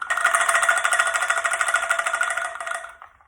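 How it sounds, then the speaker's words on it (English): A high-pitched rattling-bones percussion instrument shaken steadily for about three seconds, a fast, even clattering buzz that stays close and loud before stopping abruptly. "the pitch of rattling bones number 2 is pretty high"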